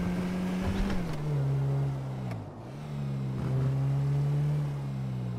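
Engine of a car driving around in FiveM, the GTA V multiplayer mod, on a taxi job: a steady droning hum whose pitch dips and rises with throttle changes, close and continuous with no talking.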